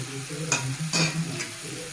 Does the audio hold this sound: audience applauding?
no